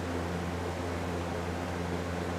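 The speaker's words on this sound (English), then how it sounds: "Sorry about the fan." An electric fan runs steadily in a room, a constant broadband whoosh with a low steady hum underneath, close and unchanging throughout with no talk.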